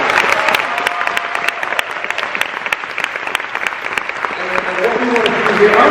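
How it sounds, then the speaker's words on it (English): Audience applause for an author at a coffee shop and bookstore reading series: sustained, sharp clapping from a small crowd, close and lively, with a few voices mixed in. "So let's give her a round of applause."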